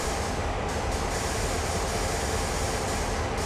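A locomotive in the railway simulator Train Sim World pulls away under light throttle, a continuous loud rumbling roar with a steady rolling drone and faint periodic clicks, with no talk.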